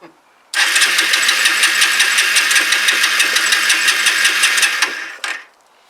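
A Kawasaki BN125 Eliminator motorcycle engine that needs constant choke fires up abruptly and runs with a buzzy, slightly uneven pulsing for about five seconds before cutting off.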